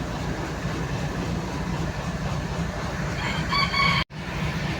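A rooster's crow rises briefly near the end over steady, noisy outdoor background, then cuts off abruptly.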